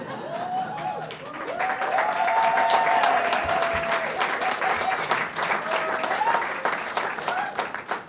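Rowdy crowd applauding at a school board meeting, steady loud clapping sustained throughout with a few voices and whoops mixed in.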